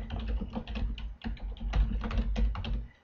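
Rapid clicking keystrokes on a computer keyboard as a title is typed, close and clear, in irregular bursts with a short pause partway through.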